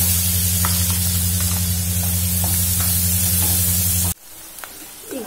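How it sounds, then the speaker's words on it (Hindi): Finely chopped onions fry in a pan with a loud, steady sizzle for about four seconds before it cuts to a quieter background. "3 से 4 बड़े प्याज लिया है उसको बारीक कट करके उसमें हम फ्राई करेंगे।"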